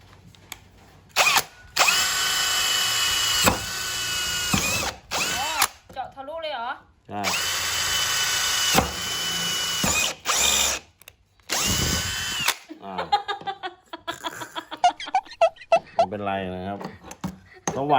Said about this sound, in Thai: เทคนิคและวิธีการเจาะก็ไม่ยากนะครับ